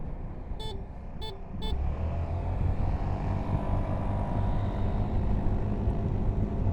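A maxi-scooter, a BMW C400X or Honda ADV 350, accelerates uphill with a rising engine drone that swells and holds; three short beeps sound at the start, no voices.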